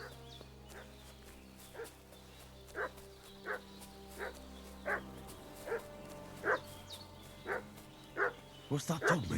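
A dog in Kingdom Come: Deliverance II barks steadily at a distance, evenly spaced single woofs over a constant low ambient hum, ending in a quicker flurry of barks.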